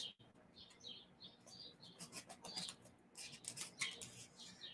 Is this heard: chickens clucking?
no